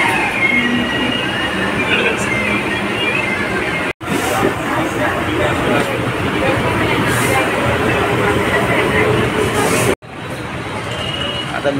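Riding a crowded Mumbai local train: a loud, continuous rumble and rattle of wheels on rails with a faint murmur of passengers, cut twice by brief breaks.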